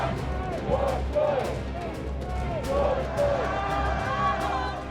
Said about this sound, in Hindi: लाखों लोगों की ये भीड़ अमेरिकी एम्बेसी के बाहर डटी हुई है।